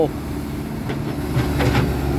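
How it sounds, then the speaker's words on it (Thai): Old Komatsu PC100-2 excavator with a four-cylinder turbo engine running steadily, a loud continuous low mechanical rumble with a faint rattle near the end. "เครื่องยนต์4สูบเทอร์โบ"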